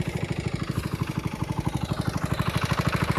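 Shallow tube-well pump engine drawing groundwater for a wetland irrigation canal, a steady rapid chugging thump at an even fast rhythm, moderately close and continuous, with no voices.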